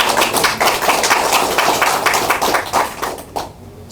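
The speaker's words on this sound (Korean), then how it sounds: "다시 한번 여러분들 박수로 환영드립니다" Audience applause welcoming a guest at a forum of retired generals declaring support for a presidential candidate, brisk, loud clapping throughout that thins out just before the end.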